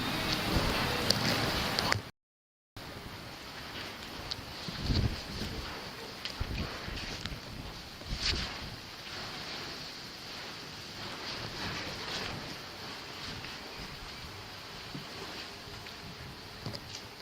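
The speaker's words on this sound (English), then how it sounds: "That could probably be the wind, but it is freaking me out." Wind rushes steadily through a tight, cramped area of an abandoned building, making a continuous broadband roar with occasional louder gusts. The sound cuts out briefly near the start, and no one speaks.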